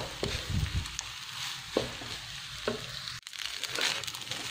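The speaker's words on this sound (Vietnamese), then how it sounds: "Mình sẽ xào cho cái cơm này nó tơi đều ra nha." Rice sizzles and scrapes in a hot pan as it is stir-fried for Thai fried rice, with steady crackling, periodic sharp scraping strokes of a utensil, and a brief dropout near the end.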